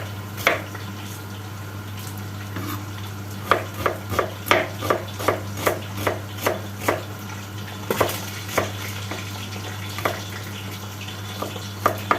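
A knife chops an onion finely on a cutting board in a series of sharp knocks, irregular at first and then steady, with light kitchen clatter in the background.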